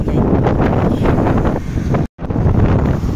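Strong wind buffeting a handheld microphone on an outdoor night walk down a street, a loud continuous low rumble with gusty surges, cut by a brief dropout before resuming just as heavily.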